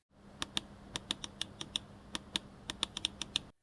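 A Deepcool MC310 ultralight gaming mouse has its buttons clicked close up, about twenty crisp, sharp clicks in an irregular run with no talking.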